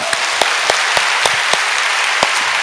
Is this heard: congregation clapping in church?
yes